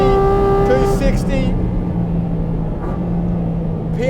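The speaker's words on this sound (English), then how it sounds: "Finally, Porsche has given the Cayman the engine it deserves" The engine of a 2023 Porsche 718 Cayman GT4 RS screams at high revs on track, then shifts gear and settles into a lower, rumbling drone under loud wind noise.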